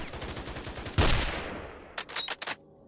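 Gunfire in a Stalker-style Minecraft mod video game: a rapid volley of shots, then a single loud report that rings out and fades, followed by a short burst of several quick shots.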